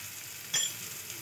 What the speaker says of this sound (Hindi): हल्का सा फ्राई करेंगे हम।